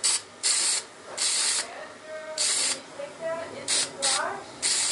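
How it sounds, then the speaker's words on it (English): Several short bursts of spray paint hiss out in an uneven rhythm while painting a fluorescent strip light fixture, each lasting under a second, close and fairly loud. "Now I'll paint the actual end of the fixture."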